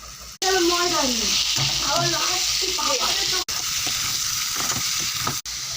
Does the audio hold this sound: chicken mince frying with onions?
yes